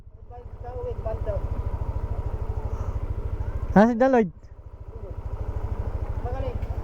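A Yamaha Aerox scooter engine idles close by with a steady low throb, while people talk nearby; midway a short, loud, rising whine briefly cuts across the idle.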